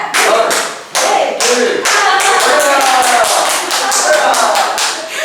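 A group performs the Indonesian 'tepuk merdeka' clapping routine together, loud sharp claps in a patterned rhythm: a few spaced strokes, a short pause, then quicker runs of claps with voices chanting along.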